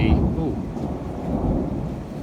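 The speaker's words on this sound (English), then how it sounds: "thunder." Thunder rolls as a deep, loud, sustained rumble that fills the whole moment, with a faint patter like rain underneath.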